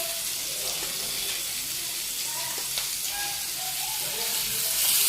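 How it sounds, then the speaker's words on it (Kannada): Fish frying in hot oil in a home kitchen, a steady broadband sizzle running throughout at moderate level, with faint clinks and a few brief tonal knocks from the pan, and a slight rise toward the end. "ಇಷ್ಟು ಫಿಶ್ ಫ್ರೈ ಮಾಡಿದ್ದೀನಿ"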